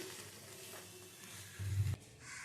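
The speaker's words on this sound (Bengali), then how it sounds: "লোতে রেখে নেড়ে চেড়ে নিচ্ছি" A vegetarian bottle gourd and sesame dish being stirred in a pan on low heat: a faint, even sizzle with a brief low knock of the spatula near the end.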